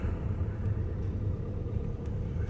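A car drives along with a steady low rumble of engine and road noise inside the cabin, constant and fairly loud throughout.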